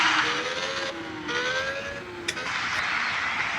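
A race car drifts in an F1 video game, with loud sustained tire squeals rising and falling in pitch over a steady engine roar.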